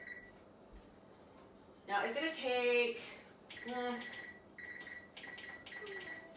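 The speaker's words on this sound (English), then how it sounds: "All right, set my timer." A kitchen oven timer is set for baking low-carb pumpkin bread, giving a series of short electronic beeps in bursts around a speaking voice, along with some handling noise nearby.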